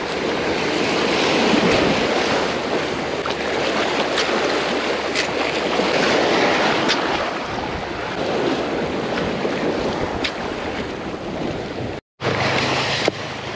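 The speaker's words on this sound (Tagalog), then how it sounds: "Lakas ang hangin." Strong wind gusts and crashing waves on a rocky seashore at Ternate, Cavite, a continuous loud roar of surf with buffeting wind noise on the microphone, briefly cut near the end.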